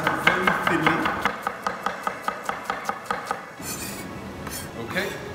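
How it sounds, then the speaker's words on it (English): A knife slices an onion very thinly on a board, crisp rapid cuts in an even rhythm, close and clear, then a pause and a few softer scraping sounds. "I have an onion that I'm just going to slice up very thinly."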